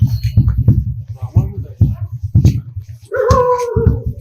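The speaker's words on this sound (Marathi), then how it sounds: "कुत्रा" A dog yips and whimpers close by in short bursts, mixed with people talking at an outdoor family gathering.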